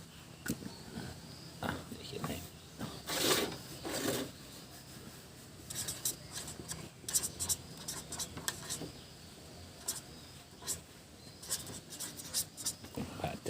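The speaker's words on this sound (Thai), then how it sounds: "พระอาจารย์เขียนให้ถูกแล้วนะครับพระอาจารย์" Pen writing numbers on paper at a forest temple, intermittent scratchy strokes and taps spread across the stretch, with people talking nearby.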